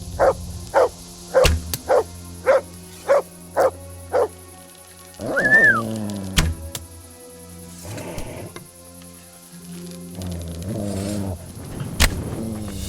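A dog barks about eight times in a quick, steady series in the video game Kingdom Come: Deliverance, loud and close, followed by a whimpering whine and other game sounds.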